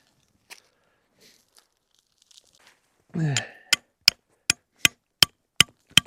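Steel tent stakes are hammered into frozen, concrete-hard gravel at a winter campsite, a brief scrape followed by a steady series of about eight sharp, close metallic strikes.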